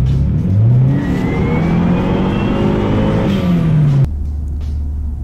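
A sports car accelerating, the engine note climbing loud and close through a rising rev, easing into a steadier whir before cutting to a lower idle-like hum at the end.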